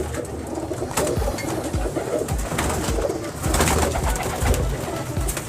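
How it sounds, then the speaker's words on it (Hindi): Teddy pigeons kept by a breeder coo repeatedly in soft, throaty, overlapping calls, close by and continuous, with light rustling throughout. "ये देखें ये टैडी कबूतर"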